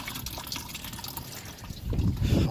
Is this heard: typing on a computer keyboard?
no